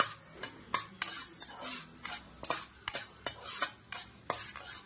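Prawns fry in a pan while being stirred, with a utensil scraping the pan in quick, regular strokes about twice a second over a quiet sizzle. No one speaks.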